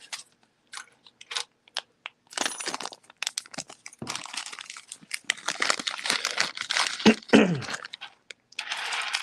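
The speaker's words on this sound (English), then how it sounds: "Those beads falling into the bag." Small beads pour and rattle into a bag in scattered bursts of crinkly, gritty clicks, growing denser and busier toward the middle, then thinning out again with short pauses between pours.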